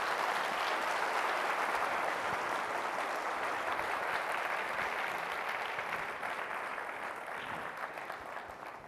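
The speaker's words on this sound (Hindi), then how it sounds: "जोरदार तालियां बजाएं यीशु के नाम को जलाल" Congregation clapping loudly in a church during a Hindi-language charismatic service, a dense, steady roar of applause that holds for several seconds and gradually fades toward the end, with no talk over it.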